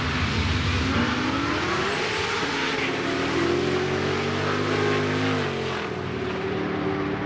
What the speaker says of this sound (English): There's got to be a dozen cars drag racing.